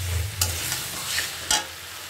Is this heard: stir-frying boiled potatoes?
yes